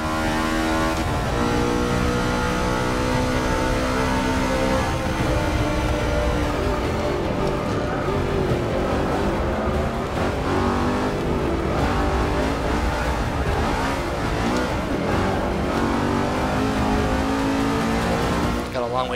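In Forza Motorsport 6, an untuned NASCAR-season race car's engine revs loud and continuous, gear changes and tire noise in the mix, while someone talks over it.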